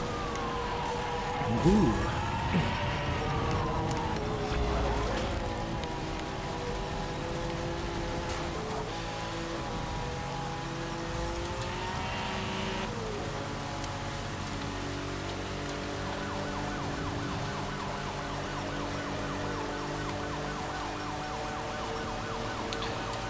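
Police sirens wail during a high-speed pursuit in the racing game Need For Speed Hot Pursuit Remastered, steady layered tones running throughout over engine and road noise, with a brief exclamation from a player early on.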